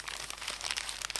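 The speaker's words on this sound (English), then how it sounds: "probably in the last attempt to get this paper crumpling sound" Synthesized paper crumpling made with the Vital VST synth: dense, continuous crinkling and crackling texture with irregular bright bursts, fairly quiet and close, with no talking.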